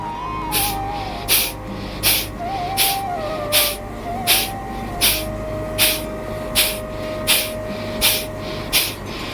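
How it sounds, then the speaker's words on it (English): Forceful kapalbhati breaths pushed out through the nostrils with the mouth closed, about a dozen sharp, evenly spaced exhalation bursts in a steady rhythm, close and fairly loud over a faint sustained tone. "Now I am applying a lot of push to breathe out."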